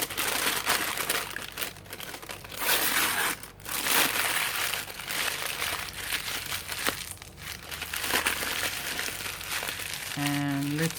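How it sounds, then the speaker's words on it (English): A brown paper bag is crumpled and crinkled by hand at close range, with a continuous crackling rustle broken by brief pauses. "I'm taking some kind of paper. This is just a brown paper bag."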